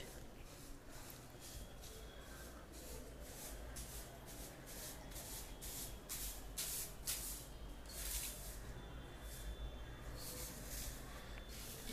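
Chicken pieces deep frying in hot oil for a crispy Bengali chicken fry give a steady, faint hissing crackle that runs unbroken throughout, with soft bubbling bursts rising and falling.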